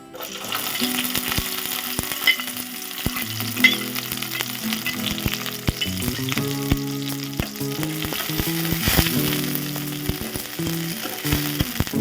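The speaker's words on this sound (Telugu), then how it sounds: "ఇప్పుడు రొయ్యల్ని కొంచెం ఫ్రై చేసుకుందామండి." Prawns frying in oil in a pan, a loud continuous sizzle with frequent clinks and scrapes of a stirring spoon against the metal, close and without any talking.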